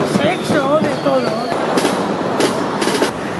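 Firecrackers going off at the Fallas festival in Valencia, loud sharp bangs and crackles amid a noisy festive crowd, with voices and whistling tones mixed in.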